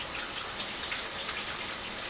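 Tap water runs steadily as hands are rinsed under a kitchen faucet, a close, even gush with no breaks and no voices.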